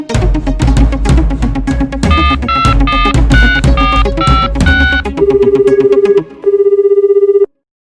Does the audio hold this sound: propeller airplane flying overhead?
no